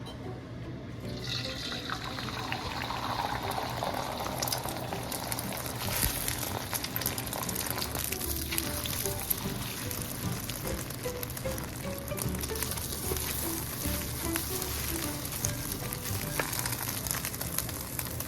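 An egg hits hot cooking oil in a pan and sizzles, a sudden hiss that settles into a steady, crackling fry throughout, fairly quiet and close with no talking.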